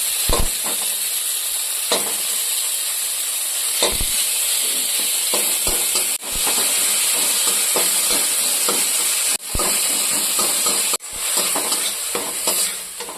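Tomato frying in a pan for a home-cooked winter lunch, a steady loud sizzle running throughout with repeated scraping stirs and a few sharp clatters.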